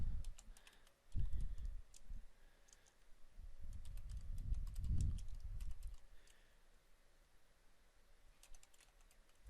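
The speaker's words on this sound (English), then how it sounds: "In this notes section, we'll simply just type what we did." Quiet bursts of computer keyboard typing while notes are entered into fire department records software, soft clicky keystrokes in short clusters with pauses between, against a low room rumble and no speech.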